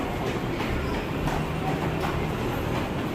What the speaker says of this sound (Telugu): ఇది అదే మోనో రైలు, సింగిల్ ట్రాక్ మీద అలా ఉంటుంది.